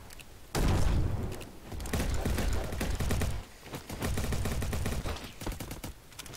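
Gunfire from a shooter game comes in loud rapid bursts of automatic shots, separated by brief pauses and followed by a quicker, choppier volley of fire.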